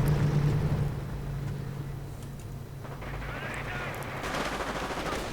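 Machine gun fire from grenadier squads in the Men of War strategy game, a dense rattle of gunfire mixed with engine rumble and distant battle noise, steady and fairly loud throughout.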